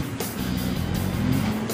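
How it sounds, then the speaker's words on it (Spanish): Cars pass along a city street, heard from a bicycle as a steady engine and tyre rumble with a few brief whooshes of vehicles going by, moderately loud and continuous, with no talking. "Miren, si se fijan, ahí van los carros."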